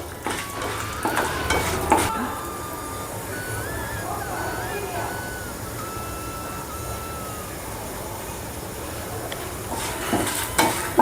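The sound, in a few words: roasting dried red chillies in a pan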